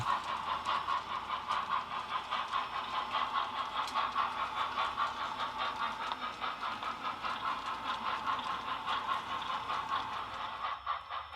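An HO scale model train, Western Pacific number 97 on a 1938-era DCC layout, rolls steadily toward the Keddie depot, its continuous rumble and rhythmic wheel clatter holding at a moderate, even level.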